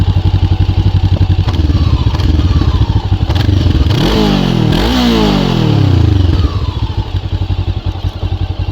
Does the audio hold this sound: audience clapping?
no